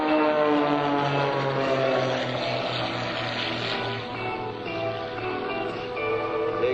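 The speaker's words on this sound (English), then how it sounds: "The two-ship team, the extra 300 airplanes again." Extra 300 aerobatic airplanes of a two-ship team at an air show drone overhead with a steady propeller engine hum, loud and sustained, the pitch wavering slightly as they maneuver.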